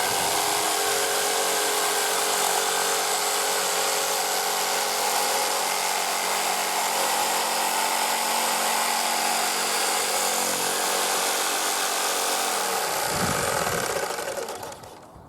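A power drill cutting a circle in wood whines at a steady loud pitch for about thirteen seconds, then winds down and stops, with no talk over it.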